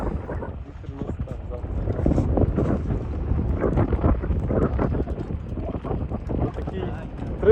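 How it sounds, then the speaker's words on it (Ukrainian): Strong winter wind buffets the microphone beside a horse-drawn sleigh in a constant roaring rumble, gusting unevenly the whole time, with faint voices beneath. "тут вітер не по-дєцьки дає"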